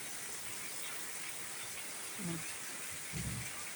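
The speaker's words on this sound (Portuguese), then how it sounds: "Tudo temporal." Heavy rainstorm with flooding on a residential street, a steady broadband rain hiss filling the scene, with two brief low rumbles near the end, one of them stronger, that may be distant thunder.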